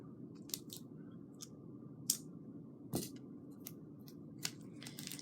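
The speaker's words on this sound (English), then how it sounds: "you're going to take some tape, and cut a piece off." Scissors snip through a piece of tape in a few sharp, close cuts over a low steady background hum, with no talking.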